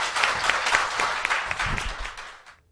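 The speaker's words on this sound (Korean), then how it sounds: "박수 네. 부탁드립니다." A short burst of audience applause at a talk or panel, close clapping that fades out over under three seconds with a brief murmur underneath.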